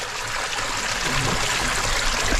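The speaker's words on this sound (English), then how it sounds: "Up the waterfall he goes." A waterfall inside a flooding cave rushes and splashes continuously up close, a dense broadband roar of moving water with no voices.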